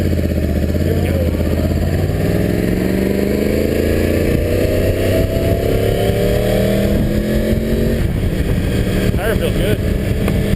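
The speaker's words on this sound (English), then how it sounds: "riding a 2009 Yamaha R1" A 2009 Yamaha R1 motorcycle rides along with a steady engine drone, holding a constant loud tone with a gently rising pitch sweep and heavy wind rumble close to the microphone throughout.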